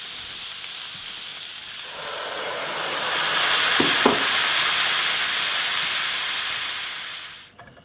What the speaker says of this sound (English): Okay, I've got my beef browned. Now they want me to add my onions.